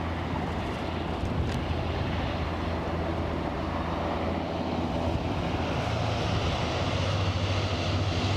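An Aer Lingus jet at Aberdeen airport, its engines making a loud, steady roar that lasts throughout with no break, close and without voices.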